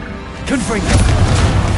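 A burst from the Confringo fire spell in the Hogwarts Legacy video game, a short explosive whoosh that swells and lingers as broadband rumble, with a voice shouting the incantation over it.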